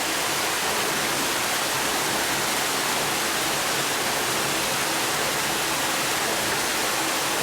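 Water gushes steadily out of a swimming pool being drained for winterizing, a loud, unbroken hissing rush close by.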